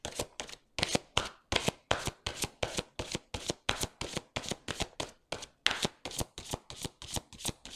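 Tarot cards shuffled by hand before a card reading, a quick run of crisp riffling slaps and flutters repeating steadily and close, with no talking.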